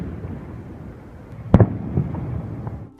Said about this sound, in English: Here's a new one, at least to us, a frost quake.